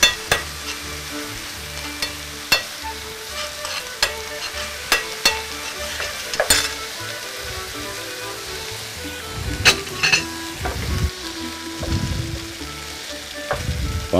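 Meat and vegetables fry in a pan with a steady sizzle, broken by sharp utensil clinks and scrapes against the pan, with louder stirring bursts near the end.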